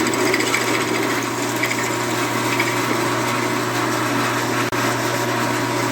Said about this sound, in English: First thing we go through with is a 1/2-inch drill.